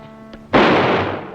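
A single loud, close gunshot rings out during a firefight in a western film, a sharp crack followed by a long echoing decay, preceded by a faint brief click.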